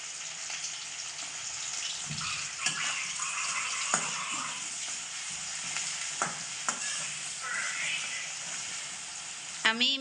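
Onions sizzle and fry in a pan while chicken biryani is being made, a steady soft crackle with occasional clinks of stirring, fairly quiet and close.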